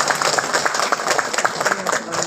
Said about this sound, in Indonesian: Tepuk tangan dulu untuk Anda semua.